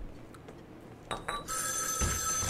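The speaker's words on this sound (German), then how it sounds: "Das Telefon klingelt" In the video game Joe's Diner, a telephone starts ringing after a few soft clicks, its bright electronic ring sustained and clear near the end.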